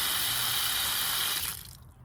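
Water rushes from a hose connected to a sprinkler timer in a backyard plumbing setup, a loud, steady broadband hiss of spray that cuts off abruptly near the end.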